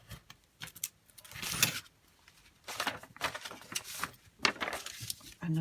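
A craft knife slices through paper pages for a hardback journal, giving several short scraping cuts in bursts with pauses between, close and fairly quiet with no speech.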